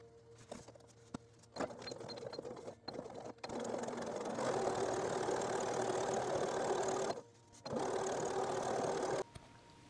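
Sewing machine stitching a straight fabric seam for a bow-tied scrunchie, running in steady whirring bursts with brief stops, close and fairly loud, no talk.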